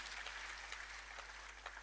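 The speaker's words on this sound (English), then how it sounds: "Please give a warm clap or applaud." Audience applause for a sponsor at a veterinary professional association event, quiet and steady, a dense patter of claps with no voices over it.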